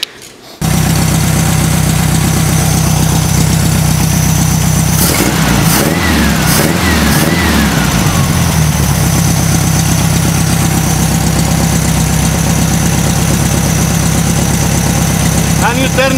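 VW engine with a carburetor starting and then idling steadily and loudly up close, with a brief revving swell in the middle before settling back to an even idle.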